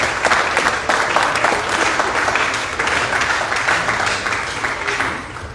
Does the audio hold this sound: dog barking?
no